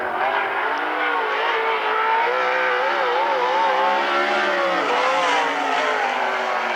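A 360 sprint car with a Rocket chassis and a Shark Racing engine howls through a qualifying lap at a Central Washington State Fair dirt track. The engine roars loudly and continuously, its pitch rising and falling as the car works the throttle.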